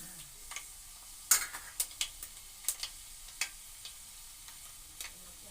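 Chana dal frying in hot oil for upma, with soft sizzling under scattered sharp ticks and taps of a spoon stirring in the pan, no voices.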